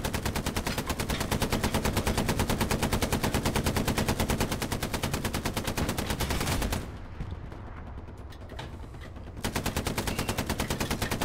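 Sustained rapid machine gun fire in the Hell Let Loose war game, loud and close, running for several seconds, pausing briefly, then resuming.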